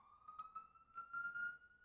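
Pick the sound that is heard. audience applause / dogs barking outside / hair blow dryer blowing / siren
siren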